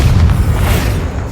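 A deep, loud booming blast from the Bombarda spell in Hogwarts Legacy, a single heavy low-end explosion rolling out over about a second.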